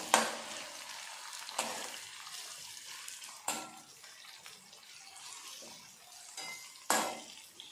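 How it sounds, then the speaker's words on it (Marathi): Finely chopped tomato sautéing in a pan for kabuli chana usal, a soft low sizzle punctuated by four sharp clanks of a spatula against the pan, quiet and close. "एक बारीक केलेला टोमॅटो, हे पण छान होईपर्यंत परतून घ्यायचं।"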